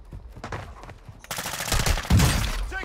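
Call of Duty: Modern Warfare II gunfire rattles in a rapid burst, starting sparse and then turning into loud, continuous automatic fire with heavy thumps near the end.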